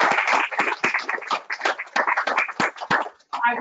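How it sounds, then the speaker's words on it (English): A small online audience gives a round of applause, a short burst of irregular hand claps with no talking over it. "Would you guys give him a round of applause?"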